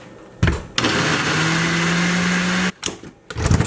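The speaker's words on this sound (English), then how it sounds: "Then I should probably get the blender out." A kitchen blender whirs loudly for about two seconds, blending a smoothie of almond butter and vanilla protein powder with a steady high motor whine, bracketed by short clatters and handling knocks.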